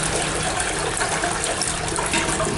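Water pours steadily into a sanitary drain in a bathroom, a continuous close rushing gush with no talking.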